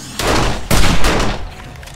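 Rapid gunfire at zombies in 7 Days to Die, several loud close bursts of repeated shots in quick succession that fade to quieter shooting at the end, with no talk.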